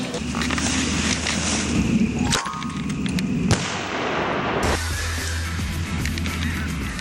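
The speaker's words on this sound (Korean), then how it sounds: "포탄이 낙하되었습니다" Simulated artillery shells burst during military combat training at a battle training center, a series of sharp booms and crackling blasts over a steady rumbling background, fairly loud and near, with no talk.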